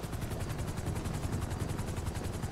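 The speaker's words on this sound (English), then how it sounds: "They'll put him on the helicopter and take him where he needs to go." A helicopter's steady, rapid rotor chop fills the scene during an air evacuation in GTA5 FiveM roleplay, continuous and fairly close, with no talk.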